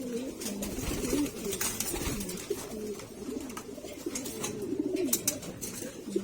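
Pigeons coo softly and repeatedly nearby in a loft, a low warbling chorus under steady background noise, with no talking.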